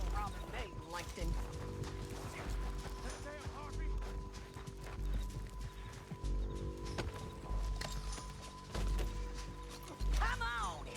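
Horse hooves clip-clopping in Red Dead Redemption 2, a steady rhythmic beat of footfalls running under game voices and ambient noise, with a brief whinny near the end.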